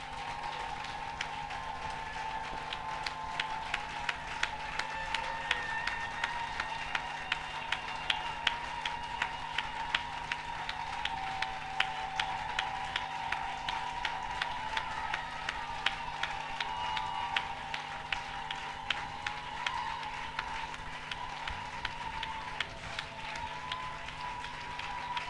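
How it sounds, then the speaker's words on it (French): A church congregation clapping for the Lord, steady sustained rhythmic applause with sharp claps throughout, fairly distant and filling the whole stretch, with a faint voice underneath. "Clap for the Lord."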